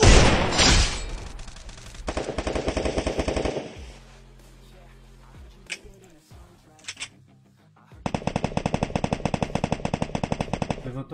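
Rapid automatic gunfire from the video game Free Fire comes in dense, loud bursts separated by a quieter stretch of clicks and thumps, with occasional talk.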